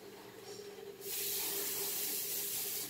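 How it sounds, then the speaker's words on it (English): Water pouring in a steady, close rush while making Goan caldeen coconut juice, starting abruptly after a second of quiet and running on evenly to the end. "So I will add 1 cup of water."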